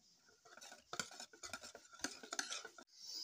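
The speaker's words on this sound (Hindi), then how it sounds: "दूध है और इसमें ये कस्टर्ड का पाउडर, इसमें मिक्स मिक्स करना है" A spoon stirs custard powder into cold milk in a metal vessel, clinking and scraping rapidly in irregular bursts, close but fairly quiet, with no speech.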